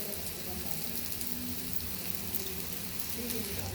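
Chicken kababs sizzle steadily on a tawa over a low gas flame, a soft, continuous frying hiss that carries on throughout with faint background noise.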